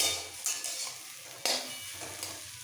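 Chana dal sautéing with spices in a hot pan, a close, steady sizzle broken by scraping stirs of a spoon against the metal, with a couple of sharper bursts as the mixture is turned.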